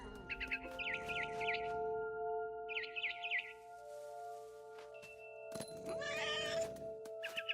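In the video game What Remains of Edith Finch, a cat meows in several short, close bursts, mixed with bird chirps and a sustained background tone.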